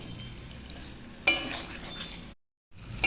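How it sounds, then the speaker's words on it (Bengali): Fried potatoes stirred into sautéed masala in a pan, with a soft sizzle under scraping spoon strokes and a sharp clink against the pan, a brief silent gap, then stirring resumes up close. "এর মধ্যে এখন আমি দিয়ে দিচ্ছি ভেজে রাখা আলুগুলো। ভালো করে আমি মিশিয়ে নেব।"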